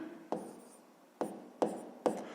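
Pen strokes writing numbers for a fifth-grade fraction exercise: four short, quiet scratchy bursts at uneven intervals over a faint background, with no talking.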